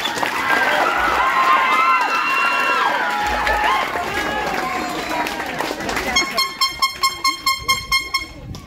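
Graduation ceremony crowd at a high school in Micronesia breaking into sustained applause and cheering, loud and dense throughout, with a voice over it and rhythmic clapping bursts near the end.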